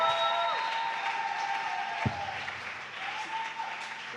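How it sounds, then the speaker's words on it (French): Applause from a church evening audience fills the space steadily and at moderate distance, with a faint tonal hum running underneath and no voices speaking. "est-ce qu'on peut faire des acclamations"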